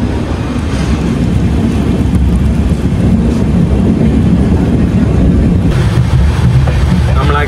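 Heavy rain pours steadily and loudly at a makeshift tent settlement beside a railway in India, a dense continuous roar with some low rumble and no clear voices.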